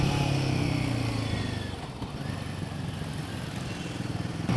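A Royal Enfield Himalayan 450 motorcycle engine drones steadily while riding, a mid-pitched hum that eases slightly and holds at a moderate, close level with no voices.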